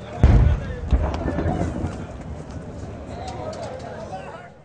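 Gunfire and rocket explosions during an attack on a peace jirga in Kabul, heard as a couple of heavy, booming blasts early on, then rumbling, distant crackle and echo fading out.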